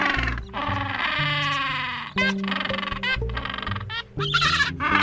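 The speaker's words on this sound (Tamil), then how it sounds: "பென்குயின்." A penguin calls loudly and close, a harsh braying series of honking bleats that runs almost continuously with a couple of brief breaks, with no talking.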